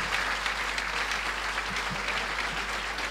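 Sustained applause from an audience fills a university engineering faculty's 60th anniversary ceremony, a dense, even clatter of many hands clapping at moderate volume with no voices over it.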